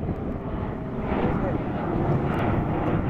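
An airplane takes off at Detroit Metropolitan Airport (DTW), a steady broad jet roar heard from a distance that swells slightly, with people talking nearby.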